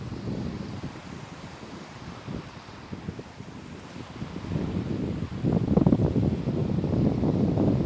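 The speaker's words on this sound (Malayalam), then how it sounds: "ഒരു തണുത്ത ക്ലൈമറ്റ്, നല്ല കാറ്റ്" Steady wind rushing and buffeting outdoors in a cold climate, a broad continuous roar that swells louder toward the end, with no voices.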